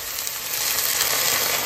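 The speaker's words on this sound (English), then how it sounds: "Ooh. Oh yeah. That's a nice sizzle." Beef broth poured into a hot pan hisses and sizzles steadily, a close, dense crackling hiss that holds throughout without voices.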